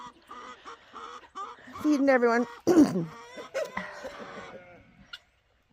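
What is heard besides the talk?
chickens on pasture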